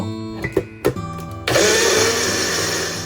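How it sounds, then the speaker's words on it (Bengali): A few clicks and knocks, then a mixer grinder starts abruptly and whirs loudly and steadily, grinding cooked shrimp into a paste, until the end. "এবার চিংড়িটা বেটে নেব"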